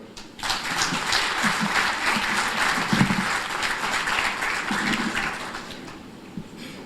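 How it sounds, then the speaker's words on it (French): Loud, sustained applause from an audience at an alumni day ceremony in Côte d'Ivoire, steady clapping filling the room for about six seconds before tapering slightly. "Veuillez l'acclamer."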